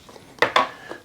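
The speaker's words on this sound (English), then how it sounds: "So let's open up the brown sugar cubes." A package of brown sugar cubes is opened with two quick, crisp crinkling tears close up, followed by a faint rustle.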